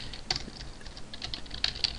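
Computer keyboard keys tapped while typing code for Java game development, a handful of quick, light clicks in small bursts that stay fairly faint and close against a quiet background.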